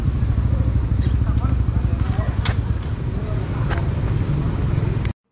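Loud, rough motorcycle engine with no exhaust muffler idling and revving close by, raw and unmuffled, until it cuts off abruptly at the end.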